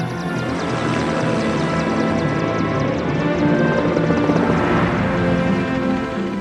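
Two search-and-rescue helicopters arrive at a crash site in a dense, steady roar that fills the whole stretch without a break, loud and near, with no voices.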